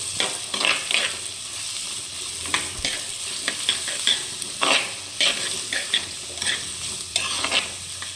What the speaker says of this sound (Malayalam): പച്ചമുളക് ഇളക്കി കൊടുക്കണം